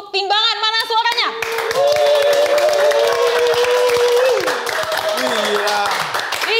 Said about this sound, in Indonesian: sekarang gue minta kerjasamanya kepada 300 penonton yang ada di studio kita. Please. Untuk tepuk tangan.